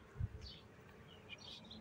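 Honeybees at a hive buzz in scattered, wavering tones as individual insects pass close by. A soft knock sounds near the start, and the whole scene is quiet and close-miked.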